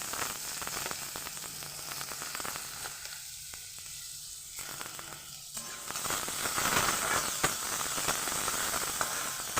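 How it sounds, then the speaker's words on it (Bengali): Small cut potato pieces fry in hot oil with a bright, continuous sizzling hiss that swells toward the end, punctuated by light crackles and pops, no voices. "আলুটাকে একটু ভেজে নেব আমি"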